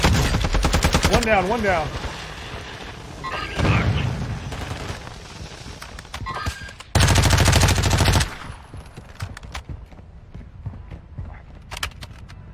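Rapid bursts of gunfire in a first-person shooter match, loud and close, with rattling volleys separated by short pauses while a player talks excitedly over the shots.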